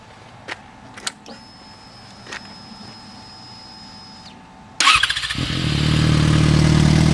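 Yamaha FZ6R motorcycle, warm, with an aftermarket exhaust not yet fitted with its hanger, starts up close by after a few clicks and a faint whine, then settles into a loud, deep, steady running rumble.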